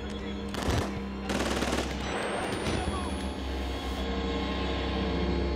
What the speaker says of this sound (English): They're shooting a lot of people.